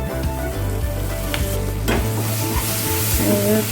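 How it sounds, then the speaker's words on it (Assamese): Chopped onion and curry leaves stirred and fried in a pan, with a steady sizzle under repeated scraping strokes of a spoon, close and fairly loud with no talking. "আৰু অকণমান দিম সৰুকৈ কটা পিঁয়াজ এবাৰ লৰাই ল'ম আৰু মই দিম ইয়াত কেইটামান নৰসিংহ পাত"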